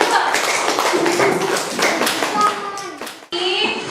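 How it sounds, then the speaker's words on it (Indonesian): Schoolchildren in a classroom clap for a group of classmates, with dense rapid hand claps, a short break near the end and then a fresh burst, with children's voices mixed in. "Tepuk tangan untuk kelompok 1."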